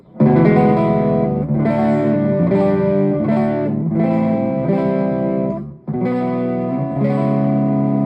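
A crunchy, mildly distorted electric guitar through a digital pedalboard plays ringing chords in steady phrases, with short breaks between strums.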